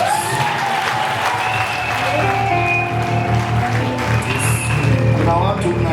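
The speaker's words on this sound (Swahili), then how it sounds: "nataka tumpigie Yesu makofi" A church congregation at a youth festival service claps for Jesus, loud continuous applause from many hands with crowd noise, while a voice and sustained tones carry on underneath.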